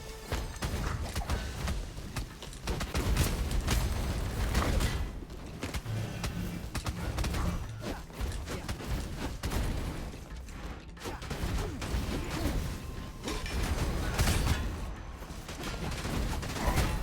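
Explosions and clattering combat effects from the video game Rogue Legacy 2 keep going at a dense, loud pace, with no let-up in the near, crashing blasts.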